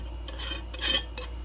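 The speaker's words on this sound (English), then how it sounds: "Put the lid on tight, okay?" A lid is fitted onto a container of homemade TPE paste, giving a few soft plastic clicks and scrapes, with the loudest snap near the middle, over a steady low background hum.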